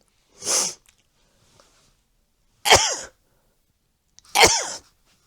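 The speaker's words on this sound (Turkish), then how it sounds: "Birazdan hapşırma krizine girebilirim." Three sharp sneezes spaced a second or two apart, loud and close, with quiet gaps between them and no talking.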